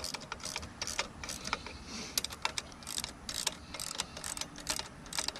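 A ratchet wrench clicks rapidly and repeatedly as 10mm bolts are tightened down on the water pump housing of a 2019 Mercury 150 FourStroke outboard lower unit, close and busy with no talk.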